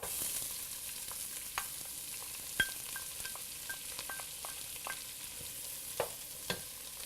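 Chopped onions hitting the hot pot for a fish chowder, a quiet steady sizzle with a few sharp ticks and light knocks as they are stirred, close and low in level.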